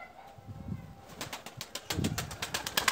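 A burst of rapid wing flaps as a pigeon takes off, the beating quick and rhythmic, close by, following a quieter moment of shuffling.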